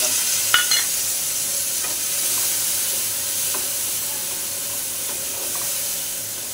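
Spices and fried paneer sizzle steadily in a hot pan, a continuous bright hiss broken by a few sharp crackles and stirring scrapes near the start, with no one talking.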